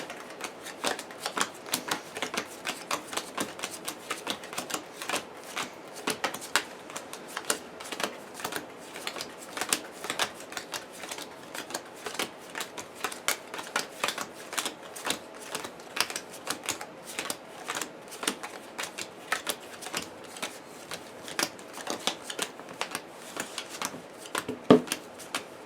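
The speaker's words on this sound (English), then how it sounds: "And I'll give the encounter deck a little shuffle." Playing cards from a Lord of the Rings card game encounter deck are shuffled in a long, steady run of crisp riffling clicks and flutters, close up and fairly loud, with no talking.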